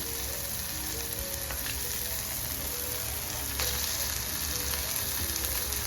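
Ginger garlic paste fries with tomatoes in a pan for mutton keema, giving a dense, continuous sizzling hiss with a few clicks of stirring, close and steady with no talking.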